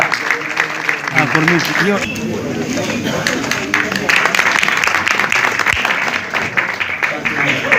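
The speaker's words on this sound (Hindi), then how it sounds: "एक बार जोरदार तालियां" At a large Hindu gathering, an audience applauds vigorously, the clapping sustained and loud under overlapping chatter and speech from the crowd and stage.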